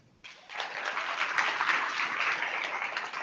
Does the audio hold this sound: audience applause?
yes